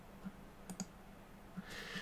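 A few faint, sharp mouse clicks come singly and irregularly at a computer running PDF print software, with a soft rustle near the end.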